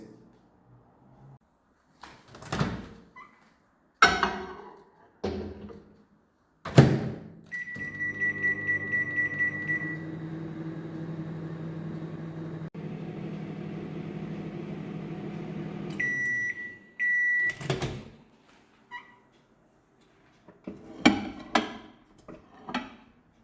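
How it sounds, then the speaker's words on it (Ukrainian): A microwave oven cooking an eggplant appetizer hums steadily for several seconds after a door clunk and button beeps, ending with beeps; handling knocks and clatter come before and after. "а ми відправляємо оцю красу в мікрохвильовку на 5 хвилин"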